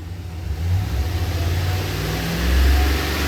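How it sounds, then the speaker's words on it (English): A Ram 1500 pickup's 5.7-liter HEMI V8, with a P062A check-engine fault, revs and holds near 2500 rpm. It is a steady, loud mid-range engine drone that swells slightly toward the end, with no talking. "Go ahead and rev it up, 2500."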